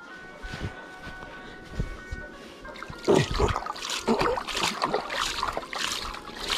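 Raw chicken being washed in shallow river water, with splashing and trickling close by, rising louder after a quiet start, and soft background noise throughout.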